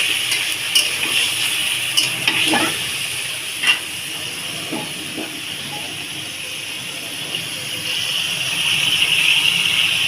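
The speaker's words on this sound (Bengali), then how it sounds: "মুরগিটা ভাজা হচ্ছে" Chicken pieces fry in a pan with a loud, steady hiss of hot oil that swells slightly toward the end, broken by a few soft clinks and shuffles.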